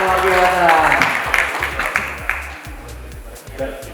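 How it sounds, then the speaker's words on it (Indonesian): An audience at an AMG car club year-end gathering breaks into applause, brief bursts of clapping rising at the start and fading under a voice speaking over it. "Tepuk tangan luar biasa."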